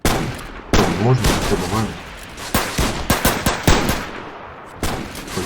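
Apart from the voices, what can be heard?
rifle gunfire in Roblox Trench Warfare video game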